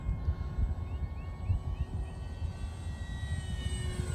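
A Top RC Swift v2 glider with a 64mm electric ducted fan cruises at about 30% throttle, giving a steady, airy whine with a constant rumbling hum underneath, continuous and fairly loud throughout.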